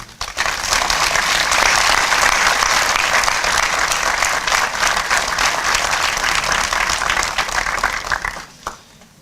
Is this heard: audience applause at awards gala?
yes